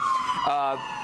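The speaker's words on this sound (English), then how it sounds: "pardon the sirens back there" Emergency sirens wail in the background outdoors, a sweeping electronic tone that dips and rises over about a second beneath a steady noise floor.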